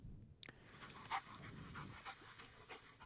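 A dog panting nearby in a quiet room, soft rapid breaths repeating steadily over a few seconds, faint and close, with a light knock near the start and no speech.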